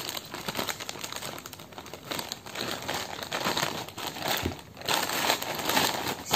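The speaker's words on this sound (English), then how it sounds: "This is the scissor and I'm going to cut it" Scissors cutting open plastic Amazon shipping packaging, continuous close crinkling and rustling of the plastic with scattered snips and crackles, no talk.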